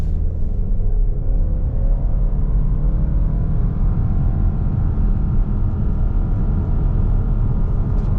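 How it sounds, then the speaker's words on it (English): A 2024 Subaru Ascent Premium at full throttle from a standstill to 60 mph with traction control off, a loud steady engine drone and road rumble rising in pitch from inside the cabin. "We'll do a 0 to 60 so I can show you how quick this Premium is"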